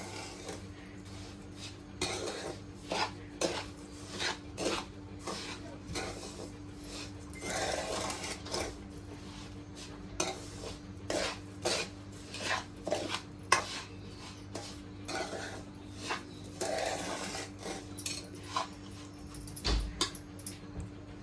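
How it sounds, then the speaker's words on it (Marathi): A metal spoon scraping and knocking against a pot while hot sugar syrup is stirred into semolina, irregular repeated clinks and rasping strokes, close and steady, with no talking. "आता गरम गरम पाक आपण रव्याच्या मध्ये घालूया चांगलं मिक्स करायचं आहे"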